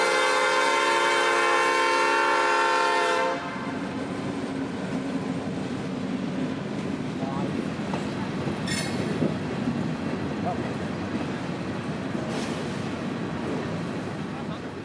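A Georgia Northwestern short-line freight train sounds a long, loud horn blast, then rumbles past with a steady roll of wheels and cars and a few brief squeals.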